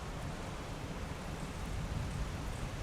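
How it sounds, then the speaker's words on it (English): Steady rain falls during a stop at a Disney resort near the monorail, a dense, even wash of broadband hiss with a low rumble underneath, continuous and fairly loud throughout, with no voices. "Oh no, the rain is picking up again, Drew."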